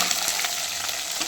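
Steady, dense sizzling of small onions frying in hot oil, a continuous crackle with a few soft stirring scrapes.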